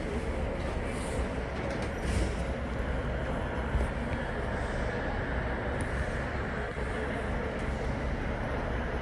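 A train at a platform, with a steady loud rumbling hum of the carriages and engine filling the whole stretch, broadband and continuous with no clear breaks.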